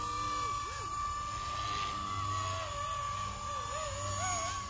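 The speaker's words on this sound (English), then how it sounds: "You can see it's not the best heli. It's just a heli." A Blade 230S RC helicopter flies nearby with a steady whining rotor and motor drone and a sustained high tone that wavers as it maneuvers, heard continuously at moderate level.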